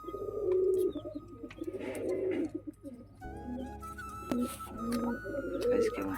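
Pigeons coo repeatedly up close, soft throaty rolling calls in short bursts, with some chirps, rustling and light background noise between them.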